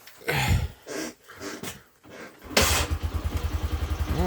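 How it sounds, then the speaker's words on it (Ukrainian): A Lifan LF1502E motorcycle engine kick-started in a garage after sitting all winter: scraping kick strokes, then a loud steady idle with a fast, even pulsing beat that keeps running to the end. "так з ножки заводиться нормально. Завівся, в принципі, досить швидко"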